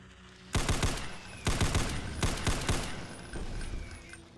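Rifle fire in the Brutal Doom Project Brutality video game: several loud bursts of rapid automatic shots in quick succession, each lasting about half a second, separated by brief pauses, with no voice.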